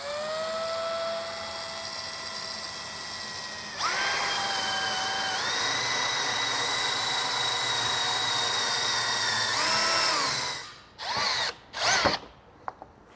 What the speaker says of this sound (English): With the hole drilled out